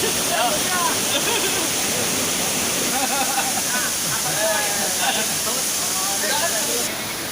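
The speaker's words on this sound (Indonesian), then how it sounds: "Air terjun Cipanas, Subang." Cipanas waterfall in Subang, West Java: a continuous, dense roar of falling water filling the whole scene, with faint voices of people nearby murmuring beneath it.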